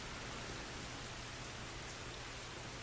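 Steady rain falling in The Last of Us video game, a dense even hiss of drops with no pauses, soft and continuous throughout.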